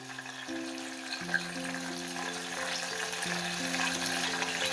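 Dry red chilies and green chilies fry lightly in oil, a low continuous sizzle with a faint hum underneath, steady and close throughout, no talking.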